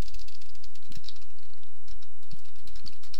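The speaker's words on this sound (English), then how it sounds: "Boy, my typing is really rough this morning." Fingers tap steadily on a computer keyboard, close and crisp, with irregular bursts of clicks and keystrokes and no speech.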